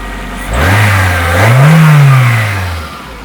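A car engine with chain-driven twin camshafts, heard close up under the bonnet, idles, then revs up in one smooth swell and settles back; loud and continuous with no talking.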